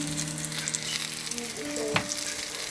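Ripe orinoco bananas frying in oil in a pan, a dense continuous sizzle and crackle close up, with a brief scrape of stirring near the end.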